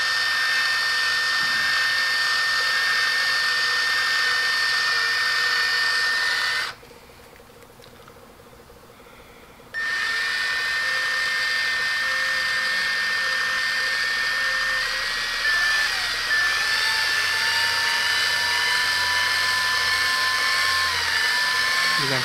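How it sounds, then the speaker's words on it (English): A drill runs steadily and slowly, boring a hole through a red-and-white plastic fishing bobber, with a constant whine that cuts out for about three seconds midway before resuming, close and loud with no talk. "slowly drill."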